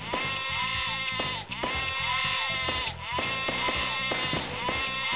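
Repeated sheep bleats from the video game Lemmings Paintball, loud and close, over a steady busy game music loop with no talk.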